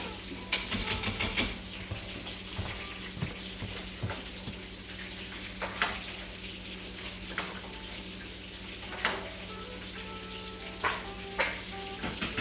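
Food sizzles steadily in hot oil while a fork stirs it, with scattered clicks and scrapes from the fork against the pan over a constant low hum, no talk.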